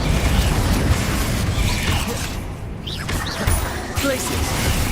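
Repeated Confringo explosive spell blasts from Hogwarts Legacy thump and crackle through busy game noise, partly under a talking voice, with bursts recurring throughout.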